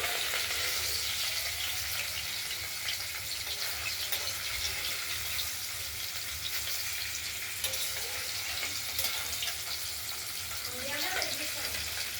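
Paneer and potato pieces fry in oil while being turned over, giving a steady, fairly quiet broadband sizzle that continues throughout with faint clinks of turning.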